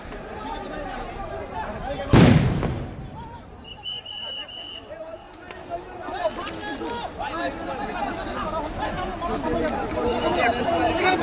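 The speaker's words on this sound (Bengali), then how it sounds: "এই মুহূর্তে কিন্তু যমুনার সামনে যমুনা অভিমুখী যে রাস্তা সেই রাস্তাতে কিন্তু পুলিশ সাউন্ড গ্রেনেড নিক্ষেপ করছে ছত্রভঙ্গ করতে" Police throw a sound grenade to disperse protesters on the road leading to Jamuna. A single loud, sharp bang booms and then decays, over constant crowd chatter and distant shouting that carries on throughout.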